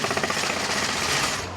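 A jackhammer breaks up a concrete pad in a small garage being converted into a tiny home, a loud, dense, rapid hammering that runs steadily without pause.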